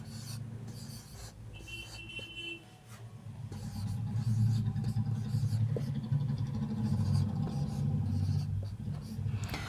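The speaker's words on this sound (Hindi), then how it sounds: "जब तक मैं इसे बोर्ड पे लिखता हूँ" Chalk or marker scratching steadily across a classroom board while a number series is written out, faint scraping strokes in short bursts over a low rumbling background hum.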